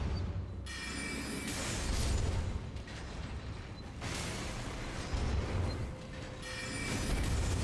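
Explosions inside the catacombs of the video game Elden Ring: bursts of booming, crackling blasts in rough succession, fairly loud, separated by brief quieter mechanical clatter.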